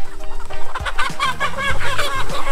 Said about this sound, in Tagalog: Tinaboy namin sa sulok ang lahat ng manok at mamunumunuhin natin hulihin ang mga tandang